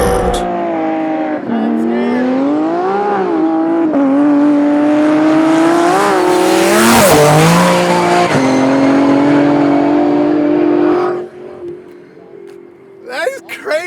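A 1,300hp Nissan Altima drift car and a twin-turbo 1,000hp Dodge Hellcat roar loudly in a drag race, engines rising through gears with a long, swelling wail, then the noise cuts off sharply, leaving brief crowd voices.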